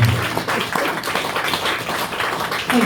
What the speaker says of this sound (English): I just want to give a round of applause to Janie.